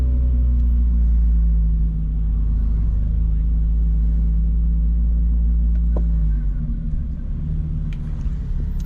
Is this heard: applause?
no